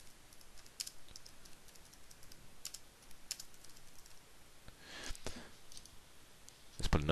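Quiet, sparse keyboard typing on a computer, a handful of light key clicks spread out with pauses and a short burst near the end, close and low in level with no talk.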